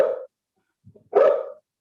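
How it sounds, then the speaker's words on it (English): Two sharp barks from a dog, with a short quiet gap between them and a faint sound in that gap, close and clear. "I think somebody's dog is making some noise."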